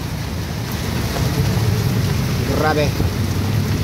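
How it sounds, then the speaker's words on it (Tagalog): Heavy rain pours over a flooded street in the town of Tanauan, a dense, steady hiss that fills the whole stretch, with a brief spoken exclamation near the end. "Malakas ang ulan."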